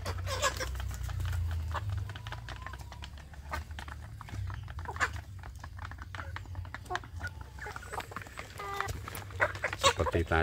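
Free-range village chickens cluck and squawk intermittently over a steady low hum, with scattered tapping and rustling throughout.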